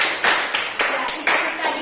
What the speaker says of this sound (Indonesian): give applause, tepuk tangan dulu